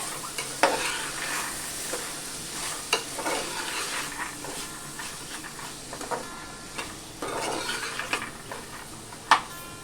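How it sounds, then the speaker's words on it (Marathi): A spoon stirs soaked, rinsed white peas into onions in a pan for misal, giving a steady scraping and rustling with soft sizzling beneath and a few sharper clinks against the metal, close and continuous. "आता आपण ते कांद्यामध्ये मिक्स करूया।"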